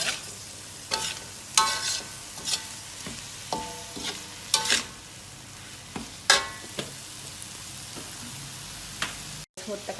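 Rice-field snails are stir-fried with chili powder and spices, a steady sizzle broken by sharp scraping and clattering stir strokes every second or so, each one loud and close.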